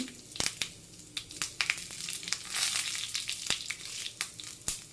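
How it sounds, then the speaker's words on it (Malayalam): Mustard seeds, fenugreek and cut dried red chili sizzle in hot oil, a quiet frying hiss punctuated by sharp pops and crackles of seeds bursting at irregular moments. "കടുകിട്ട് കൊടുത്തു ഒരു കാൽ ടീസ്പൂൺ ഉലുവയും കൂടി ഇട്ടു ഒരു വറ്റൽ മുളക് കട്ട് ചെയ്തിട്ട് കൊടുത്തു"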